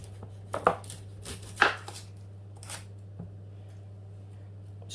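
A knife chops celery in half on a board while making homemade chicken pie, giving a few sharp, close thuds spaced about a second apart over a steady low hum.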